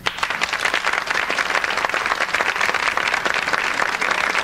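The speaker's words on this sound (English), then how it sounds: "we'll vote on applause" Studio audience at a daytime talk show claps for a newlywed couple in an applause vote, loud, close and sustained, a thick continuous patter of many hands throughout.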